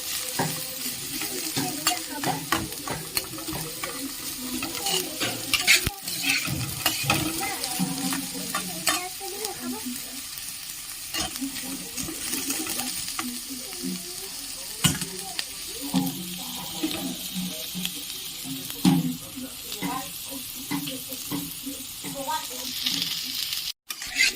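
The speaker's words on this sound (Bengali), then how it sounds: "ভালোভাবে গাজরগুলো ভেজে নেব।" Carrots stir-fry in a hot pan for mixed fried rice, a steady sizzle under constant scraping and stirring that runs without pause, with occasional knocks of the utensil and no talking.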